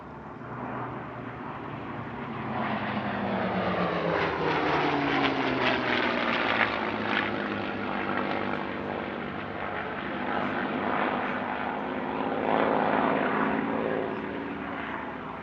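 Warbirds flying in formation at an airshow near Paris: a P-47D Thunderbolt leading with a Spitfire Mark V and a Buchon, their piston engines giving a continuous droning, rumbling propeller roar that rises and holds steady.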